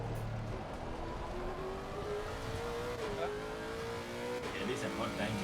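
A Ferrari race car engine in Assetto Corsa Competizione at Brands Hatch drones steadily at high revs, its pitch climbing slowly and dipping slightly between gear changes, with tire noise underneath and almost no break in the sound.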